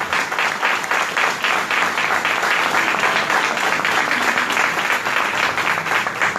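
Loud, dense applause from a crowd at a political campaign launch event, steady and sustained throughout with no talking over it.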